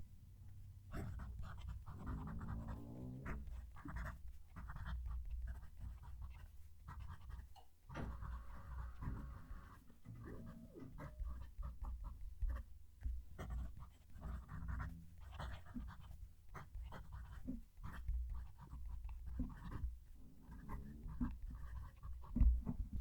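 A pen writes a sentence on paper, heard close up as soft intermittent scratching strokes with short pauses between words, faint and quiet over a low background hum.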